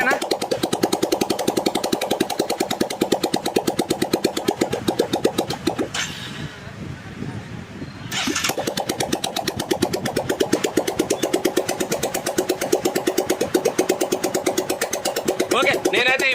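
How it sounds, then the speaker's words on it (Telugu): A Hero Karizma motorcycle engine running at idle during a restoration, a fast, steady thumping putter that drops away briefly midway and then resumes just as steadily, fairly close and loud. "నేనైతే ఇప్పుడైతే బండి స్టార్ట్ చేసి అలాగే పెట్టేసి నేను మిగతా వర్క్ అనేది చేస్తూ ఉంటాను"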